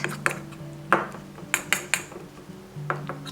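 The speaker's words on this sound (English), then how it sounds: "Then add soy sauce. And we mix all together." A utensil clinks and taps against a bowl while mayonnaise and soy sauce are stirred together for tuna mayo onigiri, about a dozen sharp metallic knocks at irregular intervals, fairly close and with no talking.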